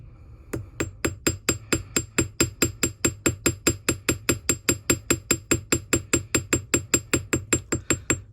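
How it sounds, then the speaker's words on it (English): Hammer blows setting a tab, working steadily toward the end, about thirty sharp, evenly spaced metallic strikes at a quick regular rhythm, close and clear with no talking. "I'm going to hammer up toward the end."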